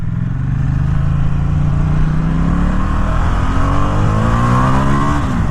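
A 2017 Ducati XDiavel S motorcycle pulls away hard from a standstill, its engine note climbing steadily in pitch through a continuous loud, close acceleration with no talk.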